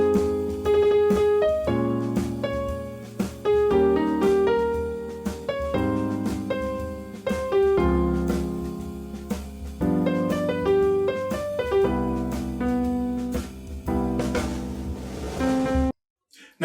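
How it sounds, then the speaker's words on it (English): Improvised melodic phrase built on a repeated triad, the notes held for varying lengths, played over a steady backing track in a beginner lesson; loud and continuous, ending abruptly near the close. "I'm going to play the triad and I'm going to play the triad again, but change the note duration."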